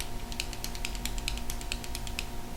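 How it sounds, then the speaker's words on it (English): A clicky pen is clicked over and over in a fast, uneven series of small sharp clicks, close by, over a faint steady background hum. "I have to have a clicky pen, and I'm constantly doing this."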